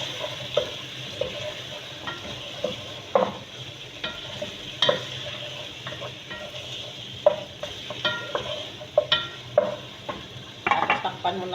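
Spoon stirring turmeric-coloured chicken in a frying pan, irregular scrapes and clacks against the metal over a soft steady sizzle, growing busier toward the end, with no speech.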